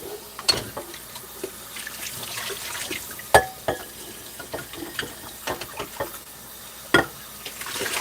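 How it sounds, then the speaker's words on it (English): Bowl rinsed under a kitchen tap, with splashing water, clinks and scattered knocks of the bowl against the sink, sharp louder hits around the middle and near the end, fairly close and moderately quiet. "Rinse this out because it's not even dirty."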